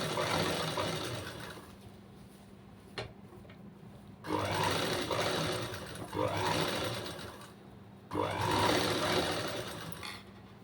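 A sewing machine stitches the lining of a neckline, running in a few distinct bursts of fast, buzzing mechanical whirring separated by quieter pauses, close and clear.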